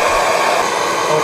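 A heat tool runs steadily on a bolt nut, a loud unbroken blowing roar close by with no pauses.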